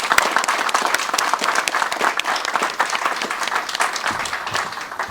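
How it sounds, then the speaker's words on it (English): Loud, sustained applause from the crowd at the ribbon cutting for a new casino training academy, many hands clapping densely and close, tapering slightly near the end. "I think we should applaud because this place is beautiful."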